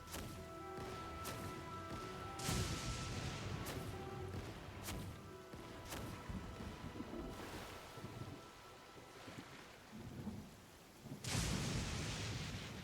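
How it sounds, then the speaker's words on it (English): Cannons fire from a boat during a naval event in the video game Genshin Impact, a string of sharp booming blasts spaced a second or so apart over steady wind and wave noise, with one last big blast near the end. "Fire the cannons."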